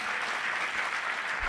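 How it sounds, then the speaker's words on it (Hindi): Steady, dense applause from an audience at a Hindi poetry recital, loud and continuous throughout without pause, no voices over it. "एक बार मुझे ताली बजा करके आदेशित करें"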